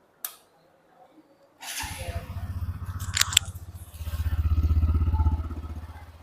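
A Hero Glamour X 2025 motorcycle engine cranks and catches, settling into a low rhythmic idle that swells slightly louder, after some brief mechanical clicks and clatter.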